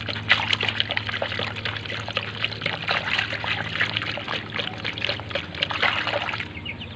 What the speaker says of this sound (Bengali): তো এখন এই পানিটাকে সুন্দরভাবে গুলিয়ে দেব।